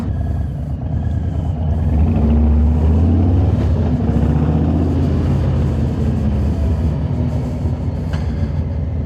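A 2018 Harley-Davidson Low Rider motorcycle rumbles steadily while riding, a loud, continuous low engine drone with wind noise and no pauses.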